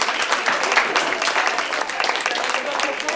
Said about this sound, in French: les femmes, on les applaudit